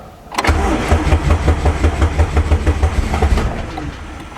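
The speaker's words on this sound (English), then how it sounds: "so let's start the car." An engine cranks and catches, then settles into a loud, rhythmic pulsing idle close by, fading slightly at the end.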